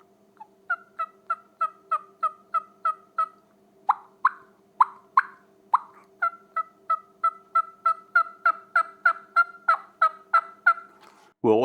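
A turkey hen's soft tree yelping, imitated by a hand-held turkey call, forms a long steady series of evenly spaced, close, nasal yelps that speed up slightly toward the end.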